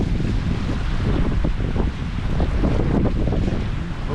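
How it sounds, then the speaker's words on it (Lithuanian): Strong wind blows outdoors in Albania near a fast-flowing river, a dense, gusty roar buffeting the microphone steadily for several seconds with no clear speech. "Labai didelis vėjas."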